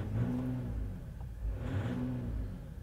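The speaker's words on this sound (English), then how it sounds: "That's what it's like when you're, just sitting there revving on it." Ram EcoDiesel pickup at about 82,000 miles revved while parked, heard from inside the cab: two rising and falling engine revs over a low, steady diesel rumble.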